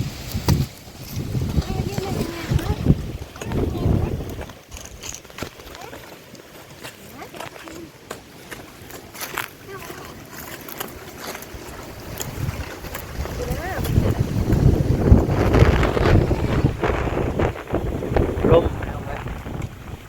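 Strong wind buffeting the microphone beside a natural stream bed where field crabs are being dug, a loud continuous rumbling roar that swells and eases throughout, with surges of gusting near the start and end.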